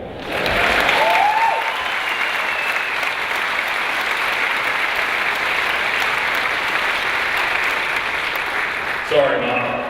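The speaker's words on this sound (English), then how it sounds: "This is when you applaud." An audience at a panel show in Adelaide applauds in a dense, sustained burst of clapping that continues evenly and then cuts off near the end, when a voice begins.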